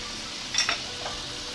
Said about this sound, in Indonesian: kuah mendidih